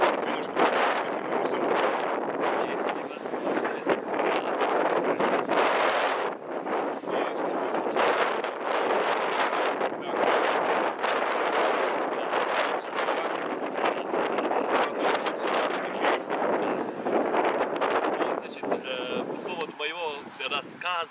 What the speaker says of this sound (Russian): Вот такой ветер здесь, представляете?